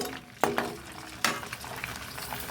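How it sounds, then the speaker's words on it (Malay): Rice crackers made from leftover cooked rice fry in hot oil with a steady bubbling sizzle, broken by a few sharp crackling pops as pieces drop in and puff up. "Kak Noh goreng sikit je."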